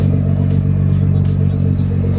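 Nissan GTR engine revving up close, a loud deep rumble with a throaty, steady growl and some mechanical clatter, holding strong for a couple of seconds.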